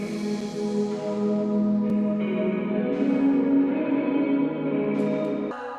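Sustained instrumental chords washed in long, lush reverb, tones blooming and lingering with a wide, spacious tail.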